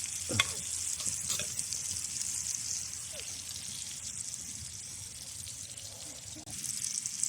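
Wild mushrooms sizzle in plenty of butter in a pan over a twig stove outdoors, a constant soft frying hiss with a few faint knocks and occasional low murmurs of a voice.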